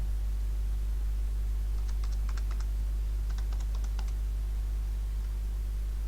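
Two short bursts of quick keystrokes as a password is typed on a computer keyboard, faint over a steady low electrical hum.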